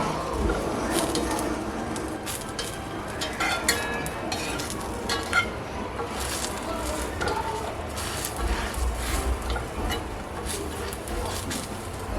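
Leftover ham fries and browns in a pan with a soft, continuous sizzle. Faint clinks of a utensil and light kitchen noises sit over the frying.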